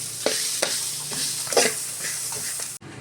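Grated coconut frying in a pan for a sambar masala, giving a continuous sizzle with several scraping stirs of a spatula, close and fairly loud, with no talk.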